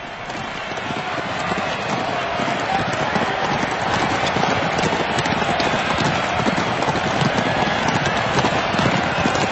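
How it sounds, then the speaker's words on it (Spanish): Horses gallop in the Palio race in the Piazza del Campo in Siena, a dense, rapid drumming of hooves on packed ground that builds and then holds loud and steady, with faint crowd noise behind it. "la ciudad del palio, una carrera de caballos que se celebra en la Piaggia del Campo"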